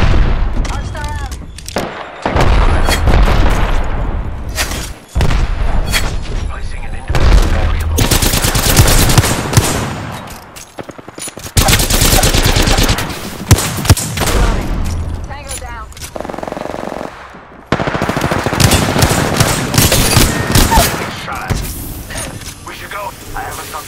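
Dense rapid gunfire fills a match of the video game Apex Legends, with loud sustained automatic bursts and booms broken by brief pauses, mixed with game voice lines.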